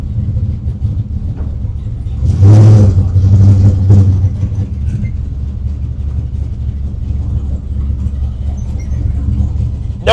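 A 1968 Camaro Pro-Street with a manual gearbox rumbles low and steady, then gives a brief louder rev as it pulls away, the engine close and dominant throughout.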